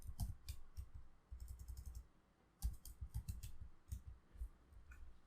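Close, quiet computer keyboard typing as a command is entered at a command line, with bursts of light rapid key clicks broken by a short pause and no talk.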